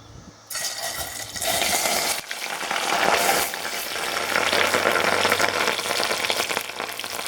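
Jewelweed dropped into hot oil near its smoke point for a medicinal salve, a sudden loud, steady crackling sizzle that starts abruptly and continues, with a brief shift as more goes in.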